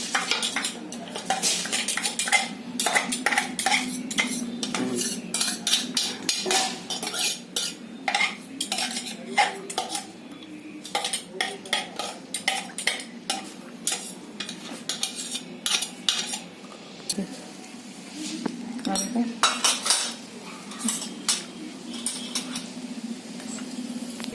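Spice masala mixed by hand into shredded cabbage in a dish: repeated close clinks and scrapes of a spoon against the bowl in irregular bursts, with soft rustling of the mix, no talking.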